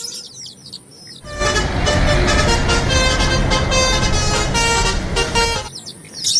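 A toy bus fitted with a telolet horn blasts a loud, sustained, multi-tone melodic horn for about four seconds, starting and cutting off abruptly, with quieter background noise before and after.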